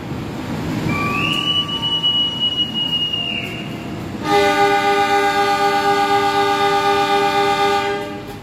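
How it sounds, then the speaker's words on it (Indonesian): The Mutiara Timur train departs Probolinggo station. A long whistle tone comes first, then a loud, sustained multi-tone horn blast over the rumble and faint squeal of wheels. "kereta api Mutiara Timur diberangkatkan kembali dari stasiun Probolinggo"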